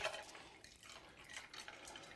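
Orange juice free-poured from a carton into a glass for a rum punch cocktail, giving a steady close liquid trickle and splash with no talk.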